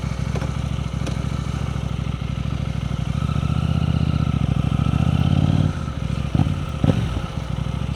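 A 2026 KTM 990 RC R sport motorcycle with a homemade exhaust delete is ridden under load, its engine a loud, steady throaty drone with shifts and brief pops around the later gear changes.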